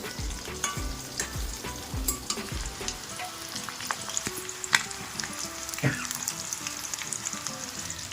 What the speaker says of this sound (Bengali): চিকেনগুলো আমার খুব ভালোভাবে লাল লাল করে ভাজা হয়ে গেছে।